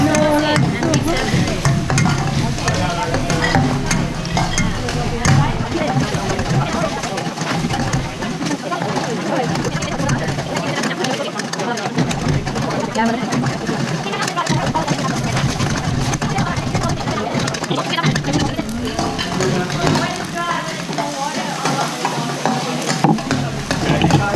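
Noodles are stir-fried in a Thai cooking class, with continuous sizzling and busy scraping and tossing, while people talk over the cooking throughout.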